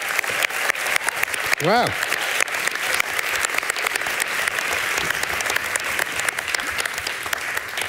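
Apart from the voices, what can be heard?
audience applause for two pediatricians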